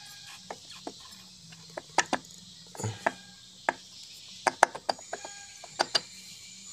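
Pulley being pried off a Honda Vario 150 scooter: a run of sharp metallic clicks and clacks, irregular and close, with a scraping thud partway through over quiet workshop background.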